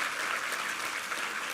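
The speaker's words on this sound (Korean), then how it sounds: "우리 하나님께 감사와 영광의 박수 올려드리겠습니다" Church congregation at a Korean Sunday Easter worship service applauding, a dense, even patter of many hands sustained for a short moment without pauses or voices.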